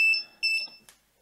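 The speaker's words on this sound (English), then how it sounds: "You hear? That's the SOS sign. Okay, so that's the passive buzzer thing." A passive buzzer on an Arduino sounds a few short, high electronic beeps in a clipped Morse-style pattern, loud at first and then fading to silence.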